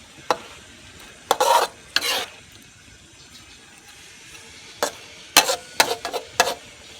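Tofu and beansprouts being stir-fried in a pan, with a run of short scraping stirs and bursts of sizzle, quiet gaps between them, close and with no talking.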